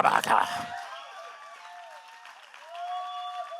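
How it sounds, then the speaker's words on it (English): A short burst of audience clapping at a wellness rally, loud and close for under a second, then fading quickly as a voice carries on. "Come on, clap."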